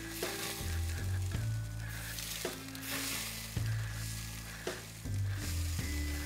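Beef broth misted from a BBQ spray bottle onto hot, smoking beef short ribs, giving repeated close bursts of hissing sizzle against a steady crackling background, with no talk.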